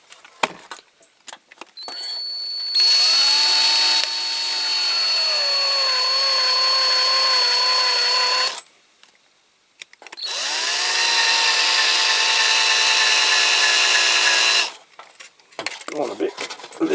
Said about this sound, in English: I'm just going to have to drill a little bit more.